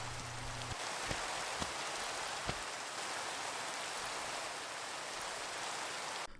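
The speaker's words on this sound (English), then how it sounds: "here comes the rain" Steady rain from Minecraft pours down as a dense, even hiss for several seconds, with a few faint ticks and a short low tone near the start.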